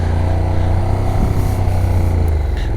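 A motorcycle revving hard with the clutch pulled almost fully in, a loud, dense, continuous engine drone held steady at close range without a break.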